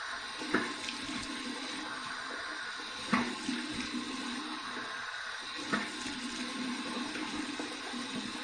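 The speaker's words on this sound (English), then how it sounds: "Here's my warm water rinse." Warm tap water runs steadily into a sink for rinsing after a shave, a continuous close rush with a few small splashes and knocks, no voices.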